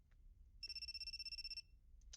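Cell phone lying face down by a door in a story game rings with an incoming call, a bright electronic tone sounding steadily for about a second against a quiet background, followed by brief chirps.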